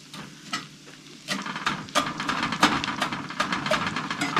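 Breadcrumbs made from dried leftover dinner rolls brown in a pan, a light crackling sizzle with repeated scraping and tossing strokes that grow busier after the first second, no voices over it.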